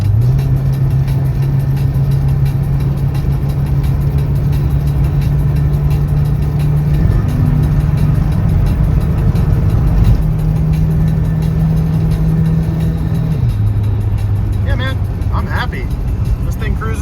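A Volvo 240 with a new exhaust and new driveshaft drives along, its engine droning loud and steady and shifting pitch a few times as it revs, while someone talks over it.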